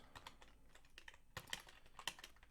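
Bursts of typing on a computer keyboard while coding in Kotlin in IntelliJ IDEA, quiet clustered keystrokes with a few sharper clicks, close and alone with no talking.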